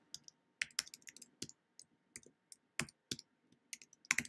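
An author's name typed on a computer keyboard, a close series of crisp key clicks in irregular bursts with short pauses between them, alone and without talk.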